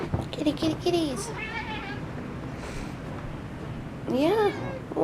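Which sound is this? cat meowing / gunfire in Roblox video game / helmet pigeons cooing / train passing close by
cat meowing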